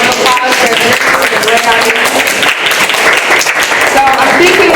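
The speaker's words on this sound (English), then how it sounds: "Give a round of applause for this." Loud, dense applause from a crowd continues throughout, with voices talking and calling out over the clapping.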